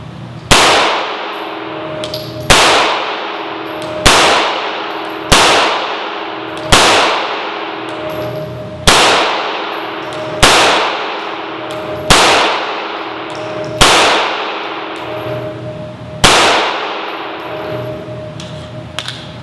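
A Sig Sauer P320 pistol fires nine evenly spaced single shots, each sharp report followed by a ringing clang as the bullet strikes a steel target, loud and close with no talking.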